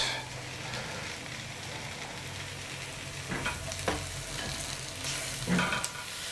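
Mushrooms sizzle in a pan over translucent, lightly browned onions, with a steady low frying hiss, occasional stirring scrapes and a few brief clinks near the end.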